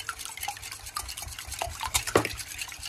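Eggs and cooking oil are beaten in a bowl, with quick, rhythmic clinks and scrapes of the utensil against the bowl, close and steady without talk.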